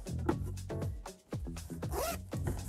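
A zipper on a patchwork stained-glass drawstring bag gives a few close, rasping pulls in steady succession, with no talk over it.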